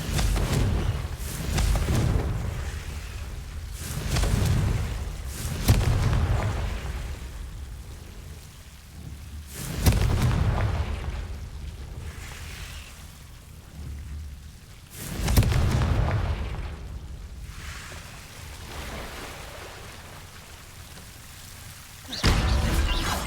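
Repeated fiery spell blasts from the Confringo curse in the Hogwarts Legacy video game, five loud bursts spaced a few seconds apart, each with a rumbling boom that decays slowly under a steady ambient wash.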